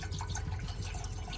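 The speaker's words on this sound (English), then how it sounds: "And I'm gonna pour some water in there." Water poured into a pot on a propane stove inside a van, a low steady splashing fill that runs without a break and stays quiet, no talking.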